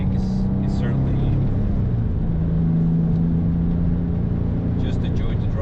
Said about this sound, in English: So I'll let you guys enjoy the exhaust tunes here for the next couple of miles